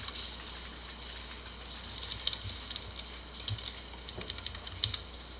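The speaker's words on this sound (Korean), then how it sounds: "키보드가 무겁네." Fingers typing on a computer keyboard while coding, with quick irregular clicks and clacks in close bursts over a faint steady hum, no voices.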